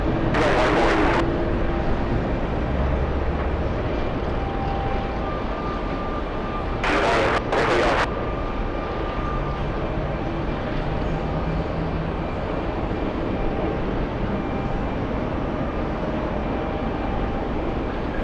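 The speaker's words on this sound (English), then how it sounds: "Let's go for the Alaska Airlines 737 flying in from San Francisco" Alaska Airlines Boeing 737 landing at JFK airport, a steady, rumbling jet roar held at moderate distance, with a few brief sharp bursts of noise over it.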